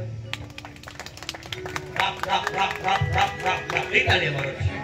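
A church congregation doing double clapping, sharp paired hand claps repeating in a quick rhythm under voices that talk and sing, growing louder and fuller partway through.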